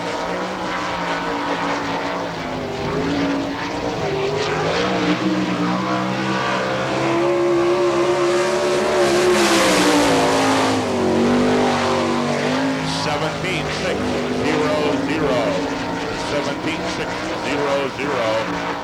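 Sprint car engine on the track at Hartford, Ohio, Arnie Kent's No. 18 with a brand new motor under the hood, howling loudly and continuously as it laps at speed, pitch rising and falling, while an announcer talks over it.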